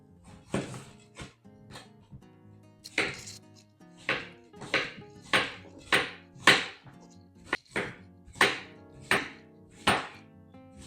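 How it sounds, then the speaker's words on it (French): A knife chops zucchini on a cutting board in a series of sharp, close thuds, irregular at first and then settling into a fairly steady rhythm, with no talking. "je vais simplement commencer par découper mes courgettes"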